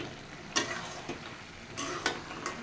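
Fried lentil dumplings (bori) being stirred into a simmering vegetable curry, with a soft background sizzle broken by a few sharp scraping knocks of a spoon against the pot.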